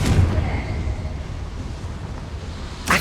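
A Confringo fire spell exploding in a Harry Potter video game, a dull booming blast that rumbles and fades over a couple of seconds, followed by a sharp burst at the very end.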